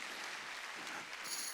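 A church congregation at a Sunday worship service claps together, a steady, fairly soft wash of many hands heard from a distance and sustained without pause.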